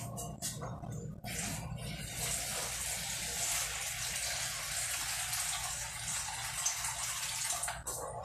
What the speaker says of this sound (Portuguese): E agora eu vou acrescentar mais um pouco de água.